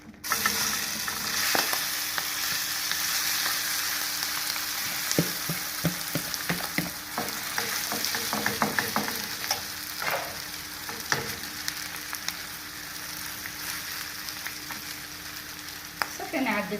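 An egg tortilla fries steadily in a hot pan, a continuous sizzle carrying on throughout, with scattered clinks and scraping taps of a utensil against the pan.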